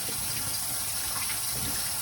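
Aquarium rocks rinsed under running water, a constant loud rushing gush of tap water filling the clip with no pauses and no voices.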